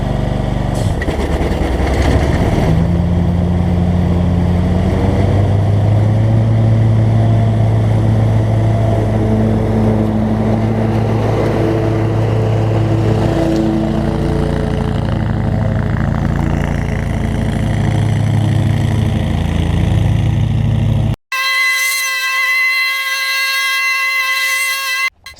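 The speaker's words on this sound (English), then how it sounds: "So let's have a look and see how well it cuts." A 2017 Hustler Raptor SD 60-inch zero turn lawn mower cuts grass with a steady, loud engine drone whose pitch shifts slightly throughout, followed near the end by a brief, different tonal sound.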